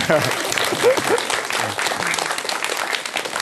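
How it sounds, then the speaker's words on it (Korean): Audience at a Korean university-style mentoring lecture broadcast applauds steadily for about three seconds, a dense continuous clapping wash with a few brief voices mixed in near the start. "그래서 이렇게 또 한 번 박수 주실까요?"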